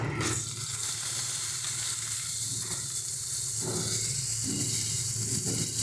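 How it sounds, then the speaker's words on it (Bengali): Cumin, dried chili and bay leaf crackle in hot oil before onion-garlic paste goes in, producing a loud, continuous hiss with a few softer stirring sounds over it. "এবারে তেলের মধ্যে ফোড়ন দিয়ে দিচ্ছি জিরে, শুকনো লঙ্কা, তেজপাতা।"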